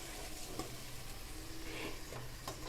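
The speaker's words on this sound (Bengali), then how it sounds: "এবার এই মশলাটা আমি কষাবো।" Spice masala sautéing with a little water in a pan for a chilli garlic pomfret dish, giving a steady soft sizzle with faint scattered ticks of stirring throughout.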